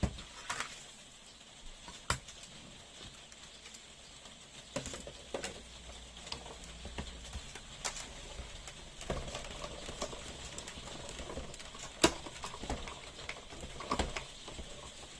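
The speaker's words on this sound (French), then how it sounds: "Alors je suis désolée, il pleut" Rain patters steadily outdoors on a wet day, a soft continuous hiss broken by scattered sharper drops and taps, fairly faint throughout with no talking.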